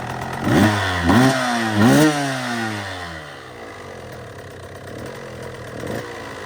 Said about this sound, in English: Flip the throttle real quick.